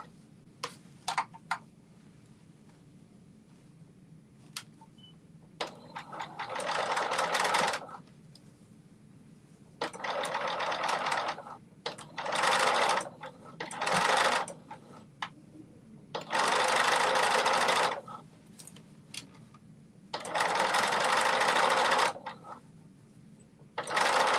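A home sewing machine runs a slow straight-line stitch on a Simplicity 8424 garment in short whirring bursts of a second or two, separated by quiet pauses, close by with no talking.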